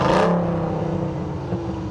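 A 2021 Ram TRX's supercharged Hellcat V8 roars in a sharp rev that quickly fades into a deep, steady rumble, loud and close.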